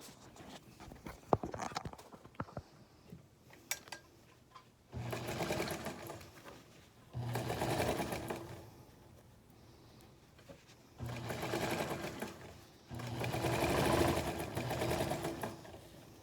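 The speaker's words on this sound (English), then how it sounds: "I'm going to turn now and sew the top, stitch down the top of it" A sewing machine stitches down the top of a fabric face mask in several bursts of rapid, steady whirring, separated by pauses with small handling clicks, close and clear.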